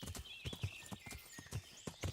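Horse hooves clip-clopping in the video game Kingdom Come Deliverance, a close, quick and uneven run of hoof knocks on firm ground, with a faint musical tone in the background.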